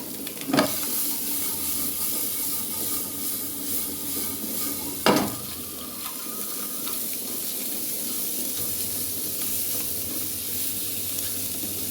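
Chopped onions sizzle and hiss steadily in a hot pan, with two sharp stirring clatters near the start and middle over a continuous frying crackle; no one speaks.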